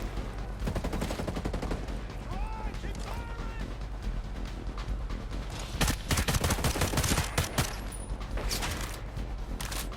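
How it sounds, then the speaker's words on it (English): Rapid bursts of gunfire from a Ghost Recon Breakpoint firefight fill the scene, with sharp sniper cracks standing out among the steady shooting, continuous and loud, while players talk over it. "We're getting sniped at the same time though."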